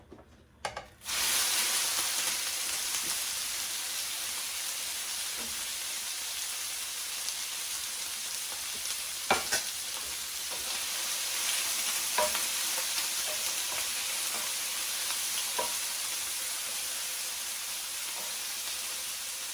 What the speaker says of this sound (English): we're going to, sear the steak, the tri-tip steak cubes, and brown them.